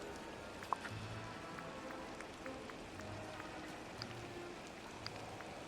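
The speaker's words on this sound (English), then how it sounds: "Now that's a proper downpour" Steady hiss of a heavy rain downpour in a video game, a dense continuous wash of patter with a few faint clicks over it, at a fairly low level throughout.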